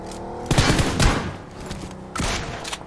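Gunfire in the video game PUBG on the Erangel map: loud bursts of rapid shots and booming impacts, close and dense, with a pause between two volleys.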